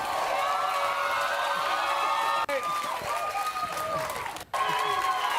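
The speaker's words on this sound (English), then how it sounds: "I didn't know it was gonna start with like clapping." A studio audience claps and cheers continuously at the opening of a played television show clip, a dense, loud wash of applause with tonal music or voices layered through it.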